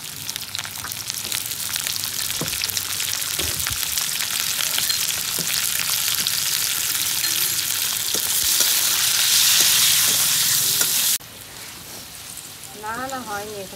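Papaya pieces with a little salt and turmeric fry in a pan, a steady, close sizzle that cuts off sharply near the end, leaving quiet kitchen sounds and a brief voice.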